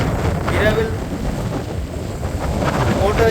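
Strong wind roars and buffets the microphone on the storm-lashed Jaffna coast at Colombuthurai, with rough, surging sea and waves rolling beneath it, steady and loud throughout.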